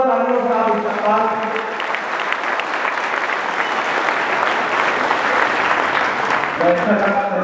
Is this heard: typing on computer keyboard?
no